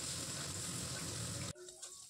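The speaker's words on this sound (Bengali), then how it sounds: "এবার আমি ওই তেলে গাজর ও মূলোটা ভেজে নেব।" Sliced carrot and radish fry in hot oil, giving a constant hissing sizzle that stops abruptly partway through, leaving quieter clinks and faint kitchen noise.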